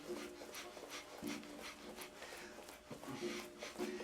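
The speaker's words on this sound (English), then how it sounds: "Very rapid breathing." Rapid breath-of-fire yoga breathing by seniors running in place during a group class: quick, rhythmic huffing breaths repeating throughout, fairly faint and continuous, with no talk.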